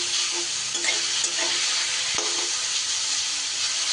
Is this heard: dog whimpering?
no